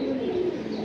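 A pale pink pigeon coos in a low, steady, continuous murmur, close by and fairly loud, with faint chirps from other birds in the background.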